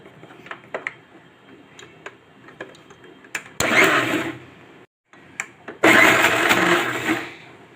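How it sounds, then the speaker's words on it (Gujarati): A kitchen mixer grinder first clicks and ticks while being set up, then whirs loudly in two bursts grinding soaked urad and moong dal, briefly stopping between runs, close by with no talk. "હવે આપણે મિક્સરમાં પીસી લેશું."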